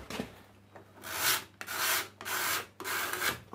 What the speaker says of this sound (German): Ich nehme dafür mein Ziehblech.